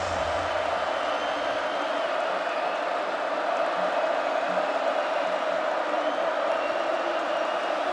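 A college football stadium crowd roars on third and long at North Dakota vs. Kansas State, a dense, sustained wash of distant cheering without a break.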